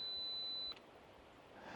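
A camera's two-second self-timer gives one steady, thin electronic beep lasting under a second, followed by the faint click of the shutter in a quiet woodland.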